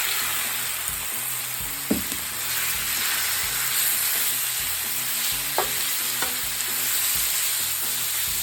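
Venison hits a Blackstone griddle greased with bacon fat over high heat, giving a loud, steady sizzle and hiss with a few scraping spatula taps.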